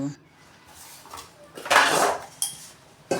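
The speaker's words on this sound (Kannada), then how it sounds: "ಇವಾಗ ನೈಟು ನಾನು ಪಾತ್ರೆ ತೊಳೆದಿರಲಿಲ್ಲ, ಅದಕ್ಕೆ ಇವಾಗ ತೊಳೆಯೋಣ ಅಂತ ಅಡುಗೆ ಮನೆಗೆ ಬಂದಿದ್ದೀನಿ" Dishes being washed at a home kitchen sink, with clattering pots and clinking cutlery in several close bursts, a loud scrape-and-clank cluster in the middle and sharper knocks near the end, over quiet background.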